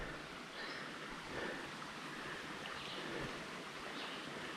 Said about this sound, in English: Water making its way over and down.